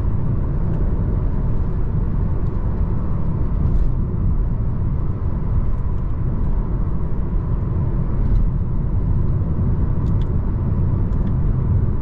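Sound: 2024 Mercedes A200 saloon engine roaring while driving

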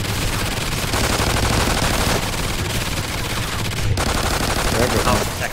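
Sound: gunfire in video game Call of Duty Ghosts Extinction

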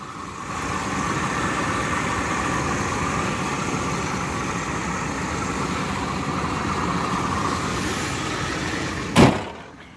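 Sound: car engine idling

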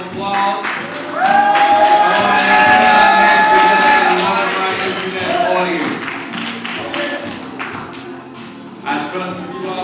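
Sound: audience applause welcoming the internet audience

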